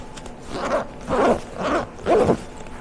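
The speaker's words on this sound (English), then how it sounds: "the zippers on this thing feel great. They don't get stuck at all" Zippers on an Adventure Trail Gear chest rig are pulled open and shut four times in quick succession, each a short close rasp against quiet background.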